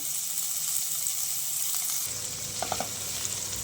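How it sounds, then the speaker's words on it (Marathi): Garlic and ginger sautéing in four to five spoons of hot oil for veg momos: a continuous close frying sizzle with a few soft stirring clicks near the end. "हे परतून घेऊया लसूण आणि आलं परतून झालेलं आहे"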